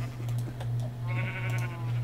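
Sheep in Minecraft bleating, several short wavering bleats spread through the clip over a steady low game hum, loud and close, with no speech.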